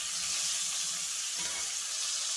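Potato pieces fry in hot oil with salt and turmeric, giving a loud, steady sizzling hiss with faint stirring scrapes underneath, close and uninterrupted throughout, with no talking.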